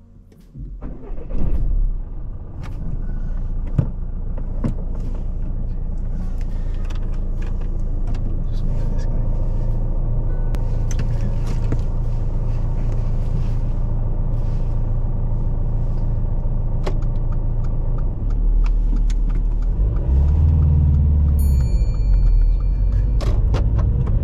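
A car on the road during a mock driving test, its engine a steady low rumble from inside the cabin for the whole stretch, with a brief swell of revving near the end.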